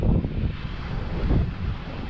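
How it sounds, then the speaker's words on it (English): Strong wind gusting across the open Derbyshire Dales near a river, roaring and buffeting the microphone in a steady low rumble. "Just so you can see how windy it is."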